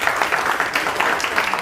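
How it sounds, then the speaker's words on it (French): An audience applauds in a brief, steady burst of dense clapping, even in loudness throughout with no voices over it. "on peut l'applaudir, allez-y."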